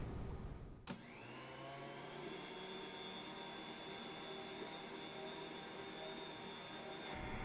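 A stand mixer motor switches on with a sharp click and runs steadily while kneading challah dough, a loud, close, continuous whine with layered hum and no talk, cutting off near the end.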